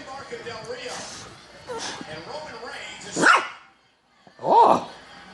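A dog barks twice, sharp and fairly close, after a stretch of people talking nearby in a windy outdoor setting.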